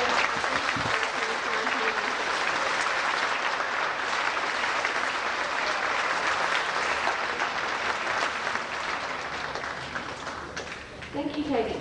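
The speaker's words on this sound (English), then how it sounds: "A round of applause." A school awards assembly audience applauds sports award recipients, with dense, sustained clapping from a sizeable crowd filling the whole stretch and easing slightly near the end.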